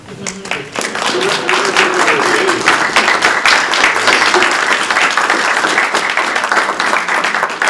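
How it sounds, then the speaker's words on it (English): Audience applause at a school committee meeting, a dense sustained wash of clapping from a room of people that swells quickly and stays loud throughout, with scattered murmurs beneath. "You guys can applaud."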